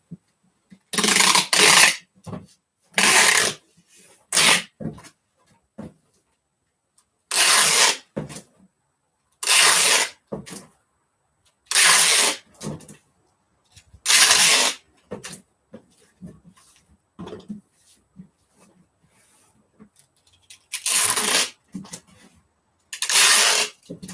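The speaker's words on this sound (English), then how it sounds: "I'm using my handheld eBay tape" Packing tape is pulled from a handheld dispenser across a cardboard shipping box, loud ripping screeches in about nine bursts of a second or so each, separated by quiet pauses and small handling noises.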